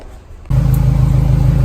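A JDM Honda Civic EK with a B16A engine that has a faulty idle fires up after a brief quiet moment, then settles into a loud, steady, close engine rumble with no talking.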